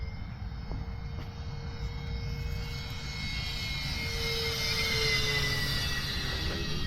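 An E-flite RV7 RC model airplane flies down the runway, its small electric motor giving a steady, fairly faint high whine that slowly grows and shifts in pitch as it passes, under a constant outdoor rumble.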